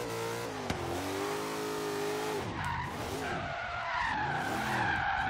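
A slammed, stanced Chevrolet El Camino drifts through corners in Forza Horizon 3, its engine revving in rising and falling pitches while the tires squeal and skid continuously, fairly close and without talk.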